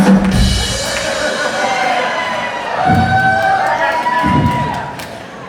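A comedy-show crowd cheers and shouts loudly throughout, with bursts of whoops and a few thumps swelling over a constant crowd roar.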